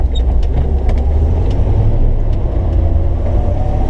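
A 1963 Chevrolet Corvette Convertible cruising down the road, its engine a steady low rumble mixed with road and wind noise, loud and constant throughout, with no talking.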